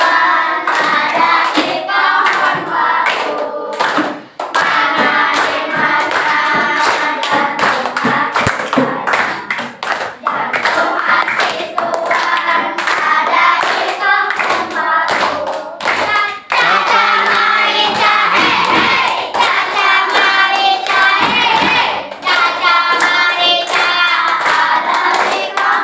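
Children clap their hands along to a song in a primary school classroom, sharp rapid claps running throughout beneath loud sung voices.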